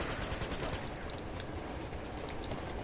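Dense, continuous gunfire from enemies wielding shotguns in the video game Uncharted 2: Among Thieves, a loud unbroken barrage of overlapping blasts with no voices.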